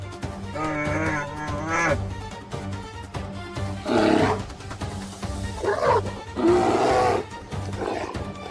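A bear in the wild lets out deep roaring bellows, several loud growling bursts spread across the clip over a steady low rumble, close and forceful with no talk.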